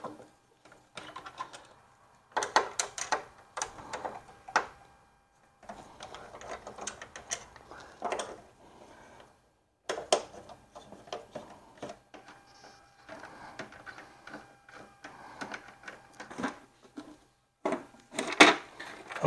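Screws are worked out of the side cover of an Allett Liberty 43 reel mower, with faint clicking, ratcheting and small metallic handling noises in intermittent bursts separated by near-silent gaps.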